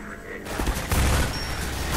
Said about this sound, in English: This machine gun sucks now.